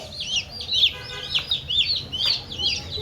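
Ten newly bought chicks peep in rapid high-pitched bursts, several overlapping, close up over a low background hum.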